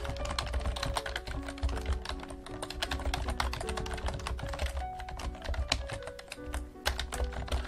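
Typing text on a computer keyboard, a rapid, uneven run of close key clicks and taps continuing throughout with no talk.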